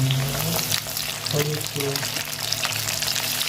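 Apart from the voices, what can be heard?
potatoes frying in hot oil in a pan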